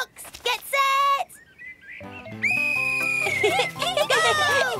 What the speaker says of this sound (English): I can start you off with my whistle